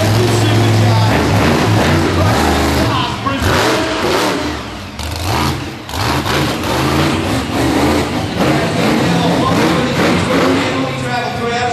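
Supercharged, fuel-injected 1,500-horsepower monster truck engine roaring loudly and continuously while the truck drives around an arena, with an announcer's voice talking over the engine and crowd noise.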